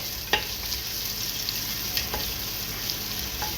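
Ginger fries in hot oil with a steady, close sizzle as a utensil stirs it, sending a few sharp scraping clacks against the pan.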